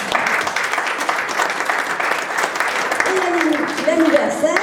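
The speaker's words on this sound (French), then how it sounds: "Alors, il y a eu l'anniversaire de Christine Grimaud, qu'on applaudit." A church congregation applauds a member's birthday, a dense wash of steady clapping while a voice speaks over it toward the end.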